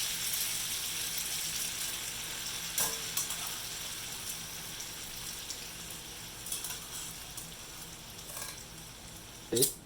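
Morel mushrooms sizzle in a hot saucepan over lowered heat, a soft steady fry with a few sharper pops and stirring clinks standing out.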